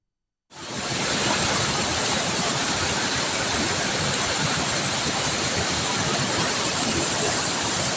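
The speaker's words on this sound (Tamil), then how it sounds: "ஓடையில் காட்டாற்று வெள்ளம் போல் மழை நீர் பாய்ந்தோடியது" Flash flood water rushing down a stream after heavy rain, a loud continuous broadband roar that starts abruptly and holds steady without pause.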